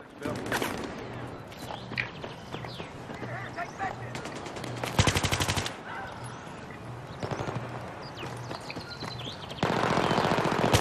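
Battlefield 3 multiplayer gunfire comes in intermittent bursts of automatic fire, some close and loud, others more distant, over game ambience. Players talk at times between the shots.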